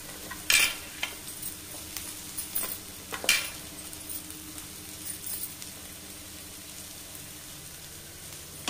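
Bitter gourd pieces dropped into hot oil in a pan for a pulusu, with sharp clatters and stirring scrapes early on, then a low continuous frying sizzle.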